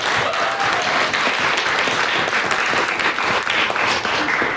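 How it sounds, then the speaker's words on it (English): Audience at a debate-society chamber applauding both teams, a loud dense wash of many hands clapping steadily for several seconds. "So round of applause again to you all."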